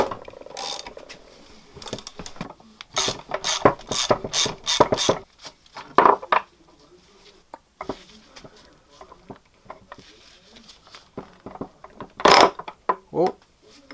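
Ratchet clicking in quick bursts while loosening a hex bolt on the steering rack of a 2004 Subaru STI Spec C, close and crisp, pausing between runs of clicks, with occasional speech in between.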